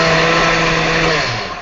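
A blender chopping ice, a loud close motor whine with a steady grinding roar that dips slightly in pitch near the end, alone with no talking.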